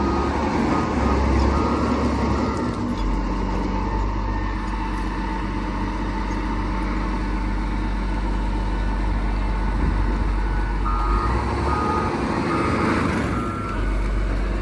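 Big trucks pass on a road with a continuous loud engine rumble, while a faint reversing beep sounds repeatedly through the traffic noise.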